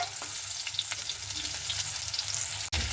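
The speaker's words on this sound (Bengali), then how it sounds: "অল্প করে তেল দিয়ে ভাজার চেষ্টা করবে তো এখানে আমি দুইবারে বা তিনবারে ভেজে নেব কলাগুলোকে" Raw banana slices frying in a small amount of oil in a pan, a continuous close crackling sizzle with light pops and a brief utensil knock near the end, no talking.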